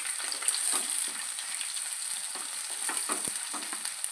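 Small onions fry in oil for gongura chicken, giving a bright continuous sizzle with scraping stirs throughout, close and fairly loud with no voices.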